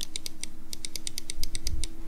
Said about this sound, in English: the switches that come in the accessories box make a different sound.